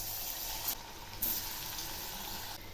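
Jackfruit pakoras drop into hot oil in a kadai. A steady close sizzle of frying is broken by two brief louder bursts as the pieces go in, with no talking.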